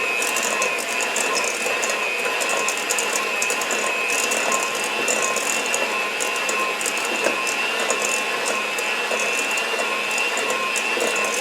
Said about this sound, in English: And I'll use my hand mixer.